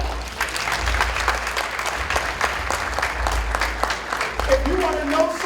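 Audience clapping steadily at a Haitian community partners gala in Boston, a sustained wash of applause from a crowd with some voices mixed in.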